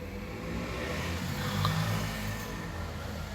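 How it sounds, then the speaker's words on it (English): Road traffic heard from outside a room, a steady, muffled broadband rumble of passing cars, with one vehicle swelling slightly louder partway through before fading back into the constant wash of noise. "Traffic is so loud outside,"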